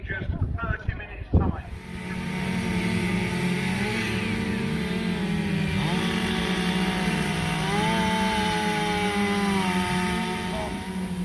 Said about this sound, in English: is also using that small chainsaw for more detailed work